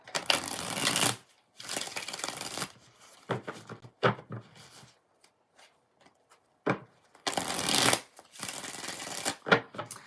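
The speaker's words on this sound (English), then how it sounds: "3 more shuffles" Bursts of cards being riffled and shuffled, several quick rustling runs separated by short pauses and soft taps, close and fairly loud.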